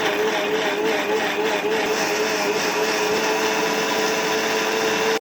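Kitchen mixie grinding amla pieces with lemon juice and water for a weight-loss drink, a continuous loud motor whine held steady throughout, then cut off abruptly at the end.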